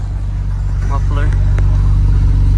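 A 1999 Nissan Skyline R34 GT-R V-spec with a Nismo intake and tune rumbles steadily at idle through its exhaust muffler, a close, low, even drone, while a person speaks briefly over it.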